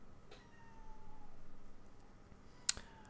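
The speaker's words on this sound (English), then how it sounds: "my cat just jumped in the window" A house cat lets out a drawn-out meow over a quiet room, fairly soft and close, followed by a sharp click near the end.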